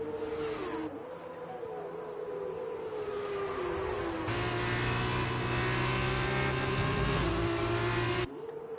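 F2 race cars in a sim racing video game scream past in high, revving engine tones, pitches climbing and dropping through gear changes, loud and continuous with overlapping cars.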